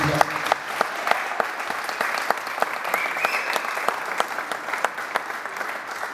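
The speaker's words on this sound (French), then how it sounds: "On peut l'applaudir." An audience applauds at a community event honoring a volunteer organizer, with steady crowd clapping, sharp individual claps popping out throughout and a faint voice or cheer underneath.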